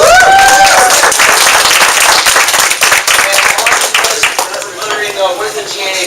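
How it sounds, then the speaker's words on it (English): An audience at a networking association launch event applauds for a woman called up front, loud close clapping that starts full and gradually thins out, with some voices and cheering mixed in. "Give Angie a good round of applause."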